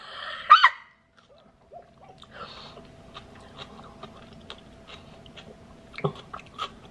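Someone chewing crunchy food, with scattered close crisp bites and crunches spread across several seconds, a louder crunch near the start and another near the end, otherwise quiet between.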